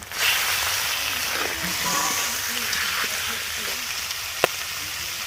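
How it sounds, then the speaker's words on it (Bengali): Duck meat frying in a pan with onion, garlic and ginger gives a steady, close sizzle, with faint stirring scrapes and one sharp tap near the end. "আদা রসুন পেঁয়াজ ভালো করে ভাজা হয়ে গেছে। এবার আমি মাংস দিয়ে দিচ্ছি।"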